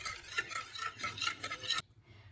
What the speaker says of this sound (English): Now whisk together your mixture.